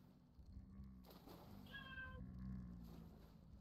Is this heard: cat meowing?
yes